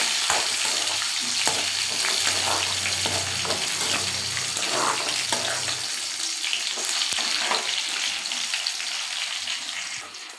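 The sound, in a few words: sautéing shallots, curry leaves and garlic in oil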